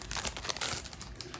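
Sheets of junk journal paper from an antique bookstore-themed kit crinkle and rustle as they are handled, a steady close run of papery crackles with no voices.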